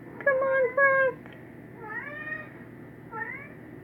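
A cat meows a few times, first two sharp close cries, then longer wavering meows, fairly quiet against a low background hum.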